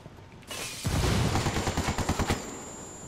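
A frag grenade explosion in Ghost Recon Wildlands: a sudden loud blast followed by a run of rapid, crackling gunfire-like bursts that fade over a few seconds, with no talking.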